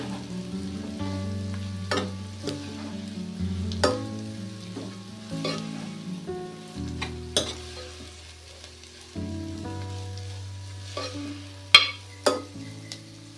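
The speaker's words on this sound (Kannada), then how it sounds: "ಸ್ವಲ್ಪ ಹಸಿ ಸ್ಮೆಲ್ ಹೋಗೋವರೆಗೂ ಇದ್ರೊಳಗೆ ಹುರ್ಕೊಳ್ಳೋಣ ರೀ" Sprouted moong dal sambar mixture is stirred and roasted in a pan, with repeated scraping strokes of a spoon over a soft background sizzle and occasional louder clinks against the pan.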